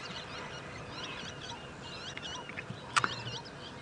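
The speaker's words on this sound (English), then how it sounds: "Oh, there's an Egyptian goose." An Egyptian goose calls on a sunset safari drive, a few hoarse honking notes over a steady outdoor hiss, with one sharper louder honk near the end.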